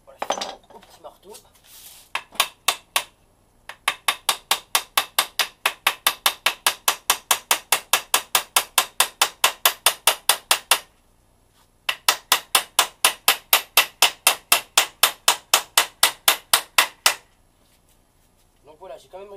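Sharp metallic taps of a small hammer nailing a wooden airsoft target, fired in long fast even bursts of dozens of strikes, close and loud, with a brief pause between runs.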